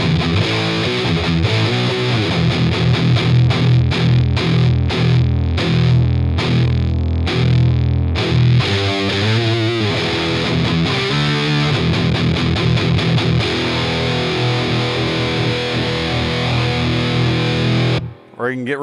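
An electric guitar played through a Walrus Audio Voyager MK II overdrive pedal gives loud, gritty distorted chords and riffs with sustained, rhythmic strums and choppy bursts, continuous throughout before stopping abruptly near the end.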